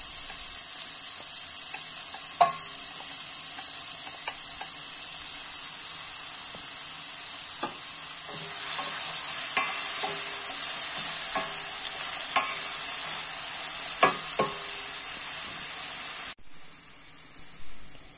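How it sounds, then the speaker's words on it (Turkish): Chopped onion and pepper frying in hot oil in a pot, a steady close sizzle with occasional stirring clinks and scrapes, growing slightly louder midway, alone without talk. "Daha sonra tenceremize soğanı biberi alıp kavuruyoruz."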